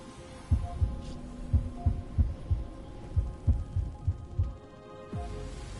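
A steady, muffled heartbeat pulses in a slow, regular double-thump rhythm over a low hum in the Honkai Star Rail video game, fading out near the end.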